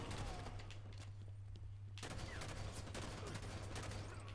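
Battle rifle gunfire in Halo 5 Warzone comes as dense, rapid bursts of shots and crackling over steady game background noise. The firing is fairly faint overall and continues throughout.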